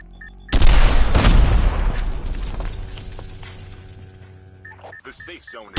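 A loud, close grenade blast in Call of Duty Mobile bursts in after a brief quiet, then rumbles and slowly decays over several seconds with scattered debris and crackle underneath, fading toward faint game ambience.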